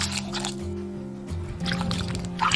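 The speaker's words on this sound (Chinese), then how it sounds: "倒入凉白开，把这个油干清洗一下。" Cooled boiled water is poured over Indian gooseberries to rinse them, making soft close splashing and trickling sounds that shift as the stream moves.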